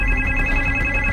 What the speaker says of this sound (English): Wait, is the phone ringing? The phone's ringing.